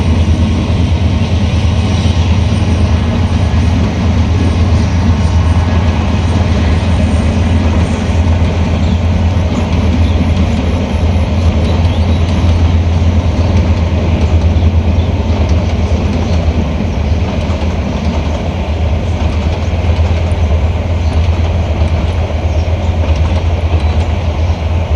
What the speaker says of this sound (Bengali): আজকে ট্রেনটা খুব স্লো ভাবে যাইতেছে,